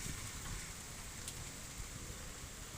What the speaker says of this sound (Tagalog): Ay, biglang naulan. Buti na lang may bubong dito.